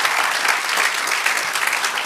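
A church congregation applauds the Lord during a Spanish-language sermon, a dense, steady clapping from many hands throughout, close and continuous with no talk over it.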